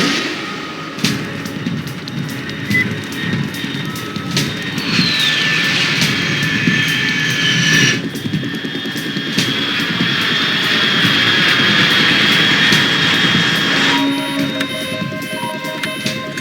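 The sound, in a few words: unidentified aircraft flying overhead in Metal Gear Solid 3 video game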